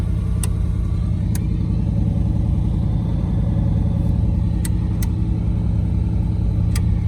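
A 1931 Plymouth P4 street rod engine holding a high idle, a loud steady low rumble close by with a few faint clicks over the top, and no talking.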